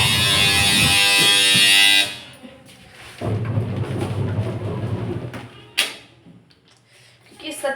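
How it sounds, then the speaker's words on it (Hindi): A washing machine's loud electronic buzz sounds for about two seconds and then cuts off, followed by a lower rumbling hum and clatter, with voices in the background. "मेरा वॉशिंग मशीन आवाज़ कर रहा है"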